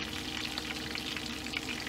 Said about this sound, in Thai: เดี๋ยวทอดด้านนี้แล้วก็สุกเลยค่ะ